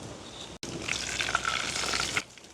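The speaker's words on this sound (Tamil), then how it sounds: "தாளிக்கிறதுக்காக நாங்கள் கடுகு மெந்தயம் போடுவோம் எண்ணெய் நல்லா கொதிச்சிட்டு" Mustard and fenugreek seeds crackle and sizzle in hot oil for a couple of seconds, a busy popping hiss with no talking.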